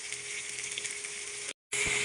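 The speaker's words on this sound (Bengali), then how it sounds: "রুই মাছ ভাজা করতেছি রুই মাছ ভেজে ভুনা করবো" Rohu fish fries in hot oil with a steady, close, hissing sizzle that cuts out briefly near the end and then resumes.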